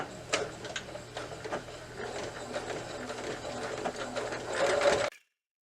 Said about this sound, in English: now let's sew down our center front.